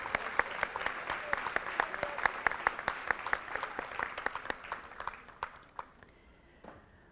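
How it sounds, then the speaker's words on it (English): Audience applause at a school board meeting for a student honoree, a scattered room of clappers with distinct sharp claps, moderately near, tapering off toward the end as the clapping thins out. "Let's give him a round of applause"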